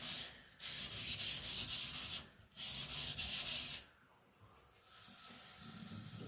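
An AEB-L gyuto kitchen knife with a k-tip, hardened to HRC 66, is drawn across a wet whetstone in long, steady abrasive strokes, loud and close, with brief pauses between passes.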